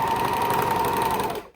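A sewing machine runs steadily while stitching fabric for a lounge top, its motor whirring loudly and evenly for over a second before cutting off abruptly.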